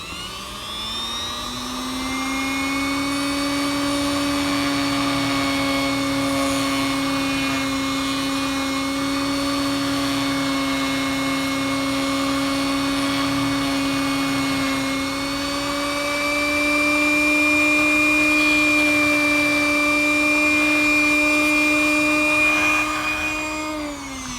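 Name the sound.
Dremel rotary tool cutting plastic model railroad part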